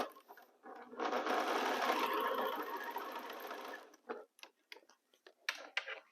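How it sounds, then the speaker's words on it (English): A sewing machine runs close and steady for about three seconds while stitching fabric, then stops, leaving a few faint clicks and handling sounds. "Align my fabric and start sewing."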